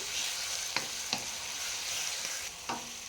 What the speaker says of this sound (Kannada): ಶುಂಠಿ ಬೆಳ್ಳುಳ್ಳಿ ಪೇಸ್ಟ್ ರಾಸ್ ಮೇಲೆ ಹೋಗೋವರೆಗೂ ನಾವು ನೀಟಾಗಿ ಫ್ರೈ ಮಾಡ್ಕೊಬೇಕು